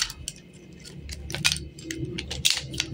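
A car key being worked into the ignition switch cylinder of a Toyota Corolla big body XL, giving a string of light metallic jingles and clicks spread across a few seconds, close by, with no speech.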